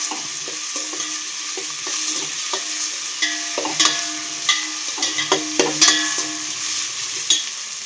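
Ginger garlic paste frying in a pan for egg fried rice gives a steady close sizzle. Repeated scraping and stirring clicks from a spatula run over it, with no voices.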